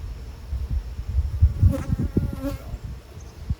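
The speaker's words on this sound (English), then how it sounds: "There's no reason for a bee to be up here other than to just hang out and do guard duty" Honey bees buzz around the top of a new hive during a mid-June inspection, a steady close hum with passing swells as individual bees fly near and away.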